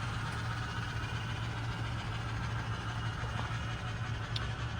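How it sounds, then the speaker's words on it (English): MTH Challenger model locomotive braking and slowing down: a steady, moderately loud mechanical hum with a faint, even rumble throughout. "You can hear the brakes, and it's going through its slow down deceleration."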